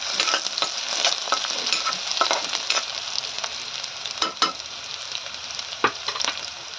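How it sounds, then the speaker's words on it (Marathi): Crushed garlic sautéed in a pan for zunka makes a bright, steady sizzle close by, punctuated by frequent clicks and scrapes of a spoon stirring it around. "आता याच्यावर लसूण टेचून घालायचं आहे हे परतून घ्यायचं व्यवस्थित"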